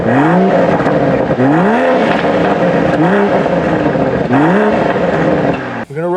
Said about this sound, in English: So let's go ahead and start this car up.